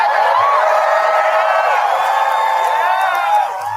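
A large outdoor rally crowd of protesters makes a steady, dense roar of overlapping voices and cheering, loud and continuous throughout, easing slightly near the end.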